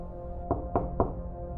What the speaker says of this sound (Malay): Ada seseorang mengetuk pintu rumah.